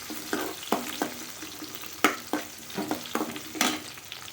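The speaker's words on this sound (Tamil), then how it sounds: "இப்போ நம்ம கட் பண்ணி வச்சுருக்க வெங்காயத்தையும் சேர்த்துக்குவோம் இந்த வெங்காயம் நல்லா பொரியட்டும்" Chopped onions frying in a pan for a Chettinad-style raw mango mandi: a steady sizzle broken by repeated sharp clanks and scrapes of a spoon stirring, close and fairly loud, with no voices.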